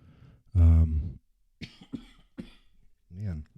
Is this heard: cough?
yes